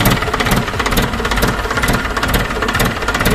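A tractor engine runs just after an oil change, a loud, close, steady mechanical drone with a fast rattling knock throughout and no voices.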